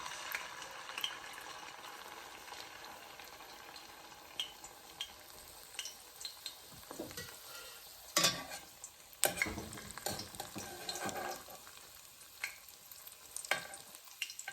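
Egg foo young batter frying in hot grease, a steady crackling sizzle with scattered louder pops and spatters, close up and continuous.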